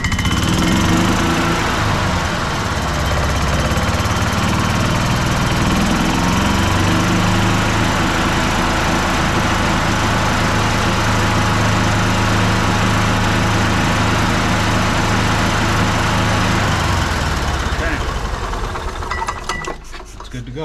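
The gas engine of a 2007 Club Car DS golf cart runs at a steady, loud idle for most of the stretch, a constant buzzing drone that cuts off near the end.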